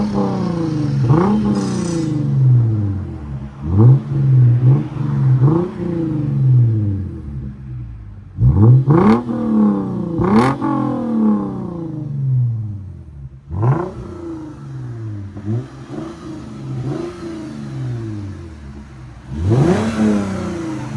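Lexus GS350 3.5L V6 fitted with Evil Energy resonators and a rear delete revs repeatedly, each sharp blip climbing and falling back into a rumbling idle, loud and close with no talking.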